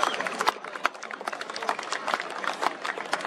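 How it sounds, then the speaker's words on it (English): Crowd clapping at a football grand final between Myponga and Encounter Bay senior colts, an outdoor country league game, with a steady patter of applause from a modest crowd holding through the whole stretch. "just give Nathan a round of applause"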